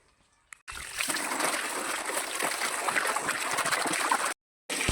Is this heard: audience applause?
no